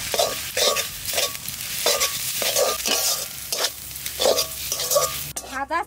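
A spatula scrapes and stirs coconut and poppy seed paste in a hot pan, with steady rhythmic strokes over a constant loud sizzle, close up and without talk.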